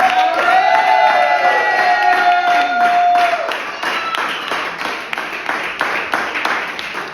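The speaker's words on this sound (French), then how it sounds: "Applaudissons encore pour Jésus." Congregation at a church teaching service applauding, sharp rapid claps in a dense burst with cheering and whoops, a sustained sung or shouted tone over the first half, then clapping tapering off.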